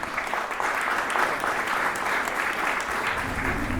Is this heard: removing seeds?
no